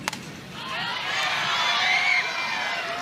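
Crowd cheering at a Chicago Bandits vs Oklahoma Spark softball game, a broad distant roar of fans and whoops that swells midway and holds steady, with no talk over it.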